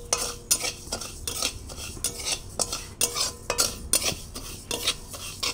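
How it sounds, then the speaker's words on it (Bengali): A metal spoon stirs and scrapes sugar around a pan while making malai kulfi, a quick rhythmic series of close, bright scraping strokes about twice a second, with no voices. "চিনিটাকে একটু নাড়াচাড়া করব।"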